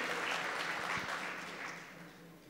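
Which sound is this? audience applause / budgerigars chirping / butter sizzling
audience applause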